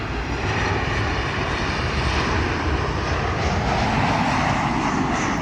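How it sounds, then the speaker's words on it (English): A Southwest Boeing 737 passenger jet at BWI Airport roars with a steady, loud, broadband engine rumble that holds throughout. "Southwest 737"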